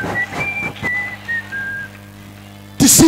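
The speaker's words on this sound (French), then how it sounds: "Et puis tu commences à siffler." A person whistles a simple tune, a string of clear, loud sustained notes with short pauses between phrases, ending with a burst of noise.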